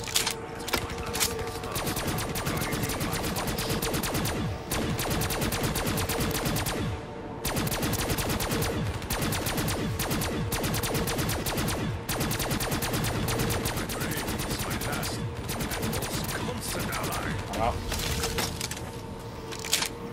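Dense, rapid shotgun blasts and other gunfire crackle almost nonstop in the zombie video game Zetsubou No Shima, loud and close, with only brief pauses between bursts.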